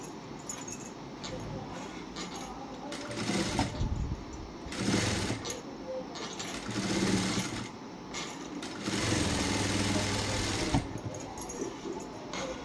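A sewing machine runs a second line of stitching over a blouse seam in bursts, a faint buzzing rattle that starts and stops several times, with soft handling noises between runs.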